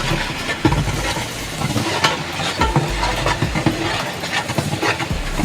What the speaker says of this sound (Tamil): புதினா மல்லி போட்டு அதை வதக்கிட்டு இருக்கோம்